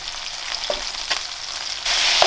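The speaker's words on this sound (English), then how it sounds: "Give some space for that bacon to start cooking properly too" Bacon and sausages fry in a pan for fried rice, giving a steady close sizzle with a few brief stirring scrapes, and the hiss gets louder near the end.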